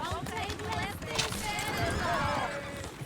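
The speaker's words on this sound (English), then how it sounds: "Oh, shit, the horses! Damn horses!" Horses in the Red Dead Redemption 2 video game whinny and neigh amid a clatter of hooves, lively and close, with people talking over the commotion.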